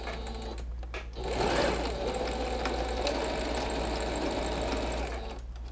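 A sewing machine stitches fabric for a moustache-shaped cushion, running in a steady fast mechanical whir for several seconds before slowing and stopping.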